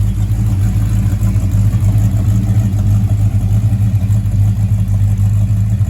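A Mopar muscle car engine idles just after starting, a loud, steady, low rumble with no pauses or revs and no one talking.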